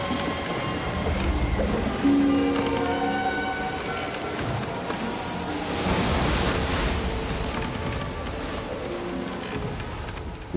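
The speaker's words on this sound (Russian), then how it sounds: "Тогда поднялся сильный ветер, и море разбушевалось." Strong wind sweeps over a stormy, churning sea, with waves surging and crashing in a steady, dense roar that swells around the middle and holds loud throughout.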